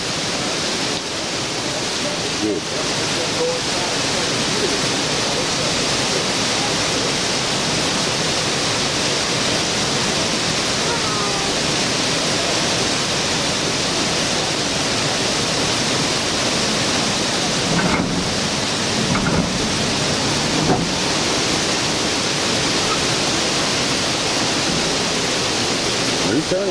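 Water rushes steadily and loudly into a grist mill turbine once a valve is opened, a dense, unbroken roar like a waterfall, with a brief spoken word over it.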